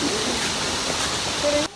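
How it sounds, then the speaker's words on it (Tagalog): Rushing water from a waterfall in Camiguin, heard from a distance on the approach, forms a steady broadband hiss that ends abruptly near the close. "dinig na ang pagaspas ng tubig"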